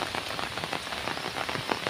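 Rain falls steadily on surfaces during a morning walk near a village road in Assam, a dense, even patter of drops close by with no voices.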